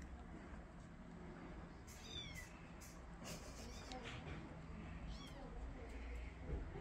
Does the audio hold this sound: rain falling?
no